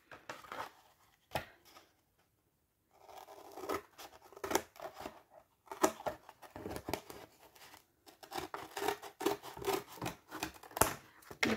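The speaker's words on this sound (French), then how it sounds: "Il va falloir que je découpe avec mes ciseaux" Scissors snip through scrapbooking paper in quick, irregular bursts of crisp cuts, close by, with short pauses between runs.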